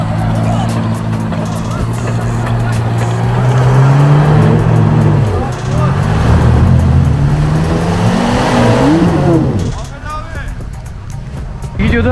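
Off-road car engine revving hard on a highland plateau, a loud sustained drone that rises and falls in pitch, with people talking and shouting over it.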